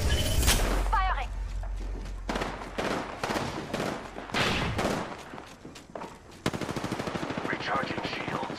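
Heavy weapon gunfire from Apex Legends Season 5 rattles in rapid, loud automatic bursts with brief gaps, then a tight steady string of shots near the end, while in-game voice callouts speak over parts of it.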